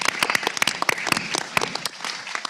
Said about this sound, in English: So can I just ask for a quick round of applause?